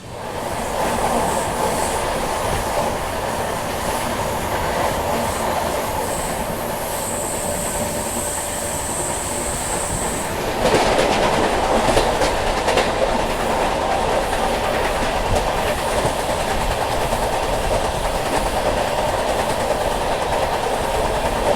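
The Goa Rajdhani Express accelerates on the rails after clearing a loop line, its steady rolling rumble and clickety-clack heard from inside the train, with a thin wheel squeal early on and louder clatter later.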